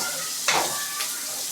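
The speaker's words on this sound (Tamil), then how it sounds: "அந்த பூண்டை வந்து போட்டுக்கிறோம்" Peeled garlic cloves drop into a hot pan for a kara kuzhambu and fry with a close, steady sizzle, a sharp burst of crackling as they hit the oil, then a brief scrape of stirring.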